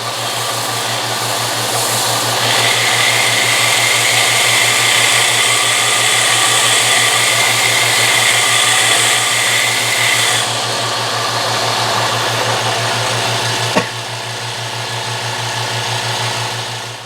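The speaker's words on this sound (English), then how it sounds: "So we sand most of the red off." A wooden platter's red-stained rim is sanded back, giving a steady, loud, continuous abrasive hiss over a constant low machine hum. The hiss eases slightly near the end, with one sharp click just before.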